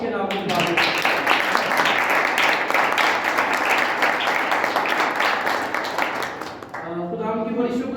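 A church congregation claps together in a dense burst of applause lasting several seconds, then fades as a voice starts speaking over the thinning claps.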